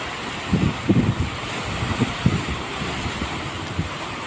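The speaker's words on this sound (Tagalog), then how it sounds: "nag-uumpisa na yung lakas ng alon. Kasi mag-uumpisa na yung bagyo eh. Lakas na rin ang hangin yan." Gusty wind buffeting the microphone over a steady roar of surf on a beach as a typhoon approaches, with a few low thumps as waves break nearby.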